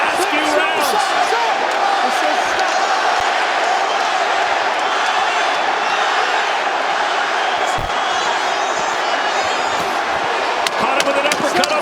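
A boxing arena crowd stands and cheers through late rounds of Devin Haney vs. Ryan Garcia, a loud continuous roar with whoops and sharp bursts, an announcer talking over it.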